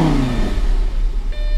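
The 5.2-litre V10 of a 2012 Lamborghini Gallardo LP 550-2 revs briefly, pitch falling as the rev dies away, then settles into a low idle hum.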